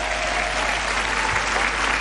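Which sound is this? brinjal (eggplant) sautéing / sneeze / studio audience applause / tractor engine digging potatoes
studio audience applause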